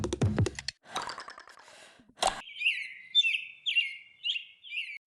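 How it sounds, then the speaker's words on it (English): Sparrows chirping in short bright bursts, a rapid series of high tweets after a few brief rustles and clicks, fairly close and clear against otherwise quiet surroundings. "That's the third sparrow since morning."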